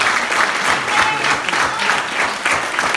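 An audience at a school ceremony for the Island Games flame applauds a student loudly, a steady dense wash of clapping filling the whole stretch with no voices.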